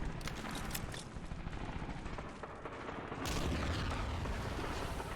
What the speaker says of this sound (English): You can hear some stray shots in the distance